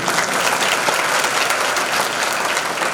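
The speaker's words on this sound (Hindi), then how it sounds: "ताली तो आप लोग बजा रहे हो, वो भी धीरे धीरे बजा रहे हो" An audience at a temple religious discourse claps in a steady, dense, continuous round of applause with no break for the whole stretch.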